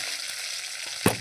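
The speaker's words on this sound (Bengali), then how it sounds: "গোটা জিরে দিয়ে আমি ভালোভাবে এটাকে রসুনটাকে ভেজে ভেজে লাল করে নেব" Whole cumin and garlic fry in oil in a wok, a steady close sizzle filling the short moment, with a brief louder crackle near the end and no voices.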